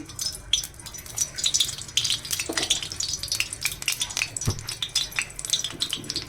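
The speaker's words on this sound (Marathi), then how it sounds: "पहिला कांदा टाकायचा, कांदा थोडा चांगला परतून घ्यायचा।" Onion sautés in oil on a hot tawa, giving a close, steady sizzle broken by frequent scraping and clinking of a spoon against the pan as it is stirred.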